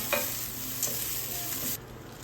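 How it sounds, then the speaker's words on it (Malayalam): A spoon stirs curry ingredients being roasted for a Kerala chickpea curry in a hot pan, giving a soft sizzle under a couple of close scraping strokes before the sound drops away. "എല്ലാം കൂടി ഒന്ന് റോസ്റ്റ് ചെയ്ത് റോസ്റ്റായിട്ട് വരണം കേട്ടോ"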